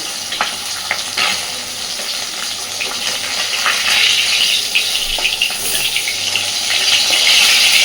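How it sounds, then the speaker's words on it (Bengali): Rohu fish pieces rubbed with salt, turmeric and lemon juice fry in a pan, giving a loud, dense, continuous sizzle and spatter up close that swells steadily toward the end. "রুই মাছগুলোকে লবণ হলুদ আর সামান্য একটু লেবুর রস মাখিয়ে নিয়ে মাছগুলোকে ভাজতে দিয়ে দিয়েছি"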